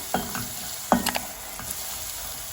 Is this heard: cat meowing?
no